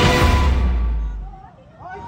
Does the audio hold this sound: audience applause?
no